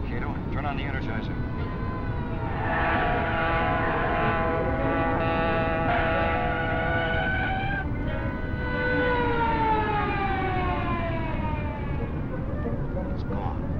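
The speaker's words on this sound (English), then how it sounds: "Police car following us, Cato." Police car siren in an old radio drama, a wailing rising and falling tone that sweeps across the whole stretch, fairly faint with voices and other sound effects mixed in.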